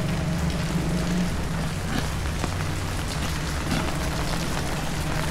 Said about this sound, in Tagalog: Umuulan pa din.